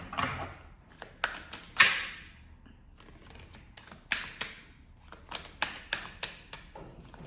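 Cards shuffled close up in a series of crisp riffles and taps, irregular bursts with brief pauses between, no talking.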